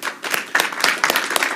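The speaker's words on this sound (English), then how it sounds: "Let's give him a round of applause." A small meeting-room audience gives a brief round of applause, a dense patter of hand claps that starts quickly and keeps going, moderately close.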